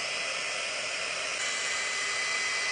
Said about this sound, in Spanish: Activa el modo secador.